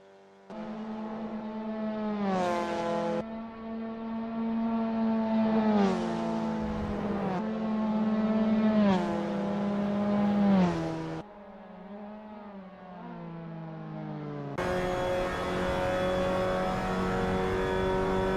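Mazda MX-5 Cup race cars at Virginia International Raceway, engines revving up and down through gear changes as they pass close by, a steady loud harmonic drone with rising and falling pitch sweeps, no voices.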